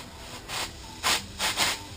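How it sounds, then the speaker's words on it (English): Compressed air blown into a small hole drilled in the front of a pattern for a fresh air scoop, heard as several short breathy hissing bursts of varying length, fairly quiet and close, with no talking. "We'll go ahead and put some air to it."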